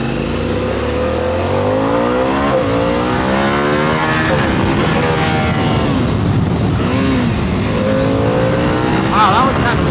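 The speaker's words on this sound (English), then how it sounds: "I was going through the gears, quick shift, full throttle, and it put it into neutral" A 2025 Harley-Davidson Pan America ST motorcycle accelerates hard through its gears at full throttle with quick shifts, engine pitch climbing and dropping in steady steps, loud and close under continuous wind roar.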